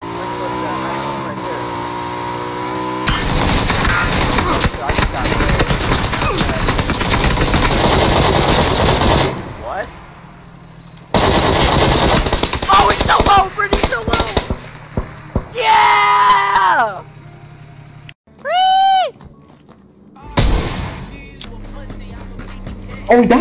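Burst gunfire rings out in the video game PUBG in loud, dense stretches of rapid shots, broken by sudden cuts, engine noise and a player's excited yelling.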